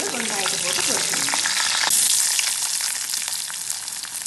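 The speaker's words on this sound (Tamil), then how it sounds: "நல்லா பொரிஞ்சதும் இதுக்குள்ள வெங்காயத்தை போட்டு பொரிக்கணும்." Onions fry in hot oil with mustard seeds, cumin and fenugreek for a fruit curry. The sizzle is loud and continuous and fades a little toward the end, with a few stirring scrapes.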